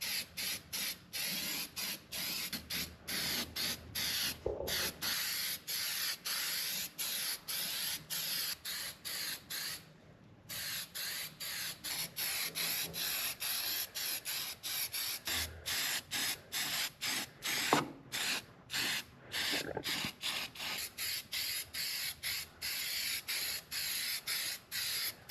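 Clear coat rust treatment is sprayed from an aerosol can into the engine bay of an old Dodge Power Wagon truck, a close hissing spray in many short repeated bursts separated by brief gaps.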